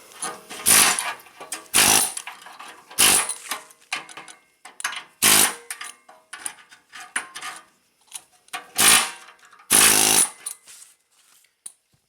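Bursts of welding crackle and buzz as metal is built up on a Suzuki exhaust flange, about seven loud close passes of a second or so each, separated by quieter gaps.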